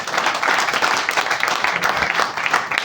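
Audience applauding at a business training session, a dense, steady patter of many hands clapping throughout, fairly loud and close, with no clear talk over it.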